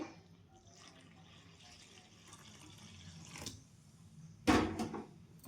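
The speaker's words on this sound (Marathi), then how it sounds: "तर मी गरम पाणी टाकून घेते" Hot water trickles and splashes as it is poured into rice flour in a home kitchen, a quiet steady pour that ends in a louder splash near the end.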